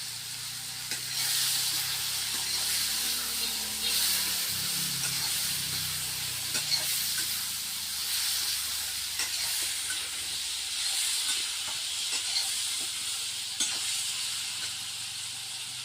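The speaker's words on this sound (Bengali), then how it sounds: "কত সুন্দর সর্ষে দিয়ে সব ফাটে গেছে।" Mustard seeds crackle and sizzle steadily in hot oil for a spicy pineapple chutney, a continuous frying hiss broken by sharp little pops throughout, with no talking.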